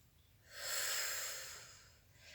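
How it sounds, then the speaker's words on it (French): A single long, soft exhale of breath during an oblique twisting exercise, rising and fading over about two seconds in a quiet room. "inspire, vous soufflez, et vous tournez"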